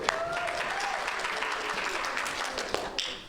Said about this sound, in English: that's good applause time